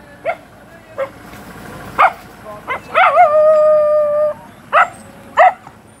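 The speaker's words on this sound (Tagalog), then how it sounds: "Ay, may aso." A dog barks several times in short, spaced yips, then lets out a drawn-out howl before a few more barks, nearby and loud.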